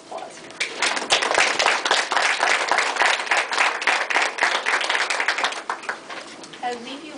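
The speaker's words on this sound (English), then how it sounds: "I think that we should all celebrate with a round of applause." Audience applause at an awards ceremony: sustained dense clapping from a crowd, steady and loud for several seconds, thinning slightly near the end.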